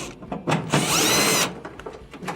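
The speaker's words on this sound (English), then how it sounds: "And then you want to take your blower housing, remove the screws for that." A power drill spins out the blower housing screws on a Whirlpool dryer, a close, loud whirring burst of about a second, with short clicks and handling noises before and after.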